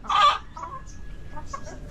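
Backyard laying hens cluck loudly and close in a short burst, followed by softer scattered clucks and faint farmyard noise.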